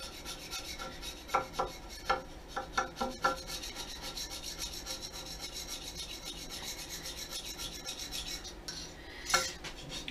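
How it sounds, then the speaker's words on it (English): Old Permatex sealant being scraped off a metal lathe carriage by hand, close rasping strokes in an uneven series of sharp scrapes, then quieter rubbing and a final loud scrape near the end; no talking. "All I really want to do is get this Permatex off of here."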